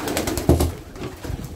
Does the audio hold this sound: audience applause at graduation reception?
no